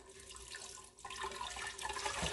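Water pours into a blender jar to start a baghrir batter, a steady close splashing gush lasting a couple of seconds with no voices.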